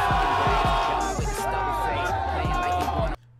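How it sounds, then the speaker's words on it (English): A crowd cheers and whoops loudly and steadily over booming music, then cuts off abruptly near the end. "Why the fuck are y'all cheering?"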